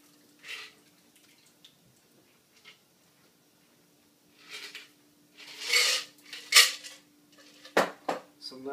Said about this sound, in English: Double strain because the strainer won't be able to catch all the little ice particles.